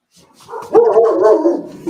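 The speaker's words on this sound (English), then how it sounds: "They heard your dogs barking" Several household dogs bark and whimper close by, a short run of yips building into a steady, loud volley of barks with no talking over them.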